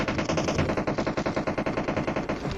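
Sustained rapid automatic gunfire in PUBG at Pochinki, a steady fast stream of close, loud shots in an even rhythm that keeps going without a break.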